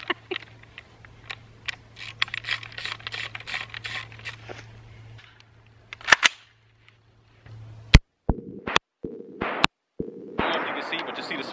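Firearm fitted with a muzzle device fires several sharp, loud shots outdoors, spaced irregularly, with talking and background hum around them.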